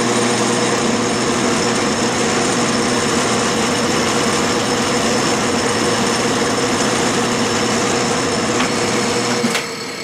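A South Bend metal shaper takes a facing cut with a close, steady mechanical drone and a low hum, holding even throughout before stopping abruptly near the end.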